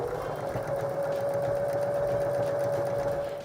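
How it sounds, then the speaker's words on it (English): A sewing machine runs a continuous seam along the edge of a denim panel from a pair of jeans, a steady whirring motor hum with a fast, even stitching rattle throughout, close and alone. "I'm now going to take this to the sewing machine and sew along this edge"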